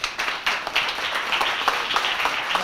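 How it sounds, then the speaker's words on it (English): An audience at a brand development talk applauds steadily, with many hands clapping in a dense, moderate patter that continues without voices. "please join me in giving a big round of applause for Michael Jager."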